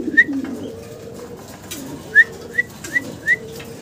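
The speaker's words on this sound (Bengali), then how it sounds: "ভিডিও স্ক্রিনে অসাধারণ সুন্দর এক পেয়ার মডার্না কবুতর আমরা দেখতে পাচ্ছি" A pair of fancy Modena pigeons sits close by, giving several short, soft whistling coos in quick succession over quiet low background noise.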